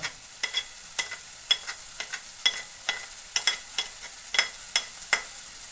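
Curry leaves, chopped shallots, ginger and garlic sautéing in a pan, with a soft steady sizzle and repeated scraping stirs of a spatula at an uneven rhythm, close and fairly quiet, with no talking.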